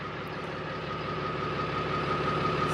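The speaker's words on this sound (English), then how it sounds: "So I'm going to turn the vehicle on." A vehicle engine idles at close range in a low, steady rumble that holds evenly throughout, with no voices.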